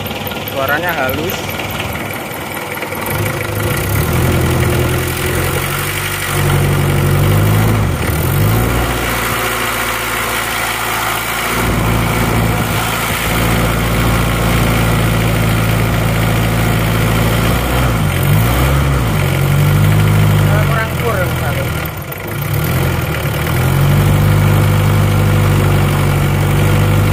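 A diesel engine on a Kuda idles after repair: a loud, close, steady low rumble runs throughout, with slight surges in pitch now and then.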